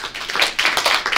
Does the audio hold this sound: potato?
no